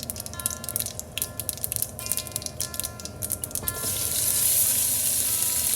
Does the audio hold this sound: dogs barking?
no